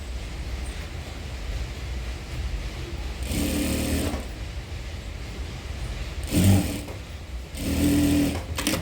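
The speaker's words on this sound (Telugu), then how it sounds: "ఇలా చేసేసి చూడండి లైనింగ్ పైన నుంచి ఒక్కొక్క ఫుల్ రౌండ్గా స్టిచ్ చేస్తాం" Sewing machine stitching the lining of a boat-neck blouse, running in three short bursts of whirring motor and needle clatter, close up, over a low steady room hum, with no talking.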